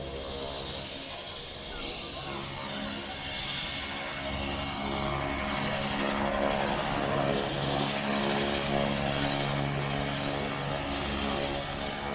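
Inside the cabin of a passenger airplane just after landing, a steady engine drone and airflow roar fill the background while a cabin announcement plays over it.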